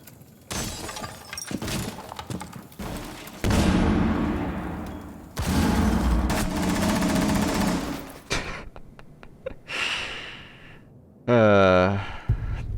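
Gunshots ring out in an attic in the game Rainbow Six Siege: several loud bursts of rapid gunfire with shattering and debris, separated by quieter gaps. A commentator speaks throughout.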